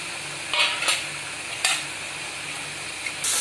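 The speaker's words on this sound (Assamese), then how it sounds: "ইফালে মায়ে মাছৰ পেটু ভাজি আছে" Fish belly frying in a pan for a home-cooked bottle gourd and fish curry, a soft steady sizzle with a few brief louder crackles and stirring clinks, close and fairly quiet, no talking.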